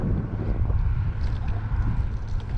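Steady wind gusting across an outdoor RC model plane flying field, a loud continuous low rumble buffeting the microphone throughout with no clear breaks or speech.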